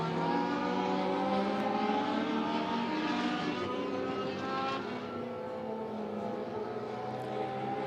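Race cars roaring around the oval at Monett Motor Speedway during a heat race, a dense, continuous engine drone with layered overlapping motors that holds steady and loud throughout.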